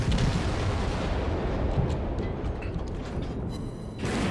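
Naval guns boom continuously in World of Warships, with armor-piercing shells striking a ship's citadel; a loud, dense wash of artillery fire and explosions runs throughout without a break.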